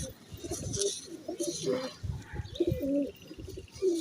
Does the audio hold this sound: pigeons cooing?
yes